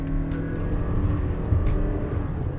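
A 2024 Lexus RX350h hybrid SUV with a CVT accelerates hard, its engine holding a steady, droning whir from close by with no gear-shift breaks in the sound.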